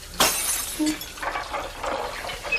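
Crystal glassware smashes with a single sharp crash, followed by scattered tinkling and clinking of shards for a couple of seconds, close and clear.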